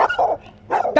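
A Rottweiler barks sharply three times in quick succession, close and loud.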